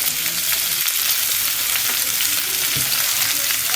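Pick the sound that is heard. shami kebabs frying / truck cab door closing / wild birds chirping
shami kebabs frying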